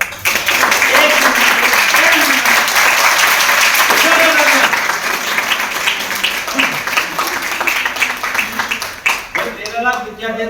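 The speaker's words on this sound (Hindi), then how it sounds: "ताली बजाओ।" Loud audience clapping at a youth team meeting in Ballabgarh, dense and continuous applause with voices and shouts mixed in, easing slightly toward the end as speech resumes.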